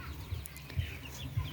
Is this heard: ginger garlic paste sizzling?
no